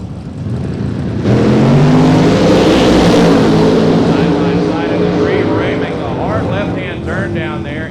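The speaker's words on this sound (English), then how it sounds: "A pair of big block nitrous-aided machines." A pair of big block nitrous-aided drag racing cars at a small-tire 275 drag event roar in loudly about a second in and keep up a sustained, rumbling engine blast while a commentator talks over it.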